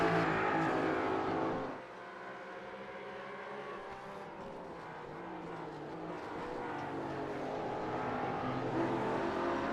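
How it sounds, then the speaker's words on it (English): GT4 race cars brake into a corner, engines roaring with downshift blips, one car loud and close before the sound drops back to a steady mix of several cars droning on through the turn. "Love the sound of every car downshifting going into that corner."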